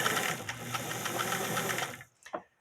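Sewing machine stitching fabric runs in a fast, steady mechanical whir with rhythmic ticking for about two seconds, then stops abruptly, followed by a brief soft rustle and clack.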